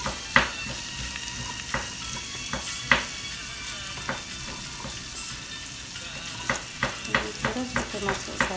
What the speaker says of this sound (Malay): Bila dah minyak dah panas, kita terus masukkan mula sekali bawang lah.